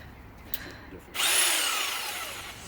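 A power drill suddenly bites into wood while building a DIY halfpipe, a loud whining bore that starts after a quiet moment with a brief click and then winds down gradually, close by with no talking.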